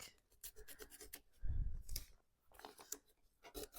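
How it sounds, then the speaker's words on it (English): Tape is pulled and pressed onto the back of a piece of vintage furniture being given a chippy paint finish, with close, scattered scratchy rips and rubbing in an irregular rhythm. "I'm going to do a little bit of taping off the back"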